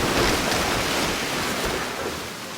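Rough ocean waves crash and churn in a dense, continuous roar, loud and close with wind-like hiss, easing slightly toward the end.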